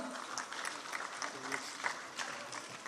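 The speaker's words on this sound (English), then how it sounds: "Please clap louder, they're champions of champions." An audience at a state-level competition applauds with scattered, moderately faint clapping, while a voice talks over the claps.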